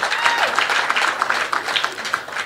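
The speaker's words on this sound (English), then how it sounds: "can we give her a round of applause?" Steady, dense applause from a conference audience at a South African public service union's inaugural conference fills the whole moment, many hands clapping at once without pause.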